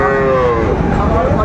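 Close by in a crowded cattle market, a young Sahiwal bull lets out one strong, sustained bellowing moo that wavers slightly in pitch over a low background hubbub.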